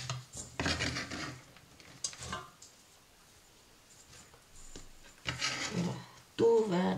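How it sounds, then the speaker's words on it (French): Clattering and scraping of chopped vegetables and potatoes dropped into a metal saucepan, with bursts of knocking and rattling, close by and fairly quiet, then a brief clink. "après avoir tout coupé, je mets tout dans une casserole"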